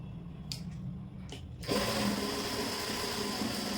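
A sewing machine starts up to stitch a folded belt onto a pair of pants, soft handling clicks and then a steady close mechanical whir running to the end.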